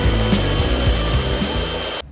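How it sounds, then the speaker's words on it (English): A power drill cuts a 2-inch hole at close range, grinding steadily, its low motor drone pulsing slightly before cutting off abruptly at the end. "2-inch hole, drill complete."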